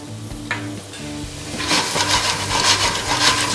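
Pork caramelising with honey in a pan gives off a soft sizzle and frying crackle, with stirring scrapes joining and growing busier partway through, close and moderately loud with no voices.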